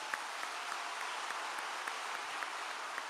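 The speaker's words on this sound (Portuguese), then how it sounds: "aplauda a palavra de Deus bem forte" A church congregation claps for the word of God at a Catholic service, a steady, dense wash of applause from many hands, moderately loud and unbroken throughout.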